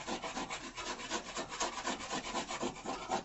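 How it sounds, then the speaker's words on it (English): A straight blade scrapes old duct tape residue off a camp trailer: rapid, rhythmic rasping strokes, close and fairly quiet, repeating steadily with no talk. "Then you take your good old trusty, straight blade, right, and shave it. Make sure you get all the sticky stuff"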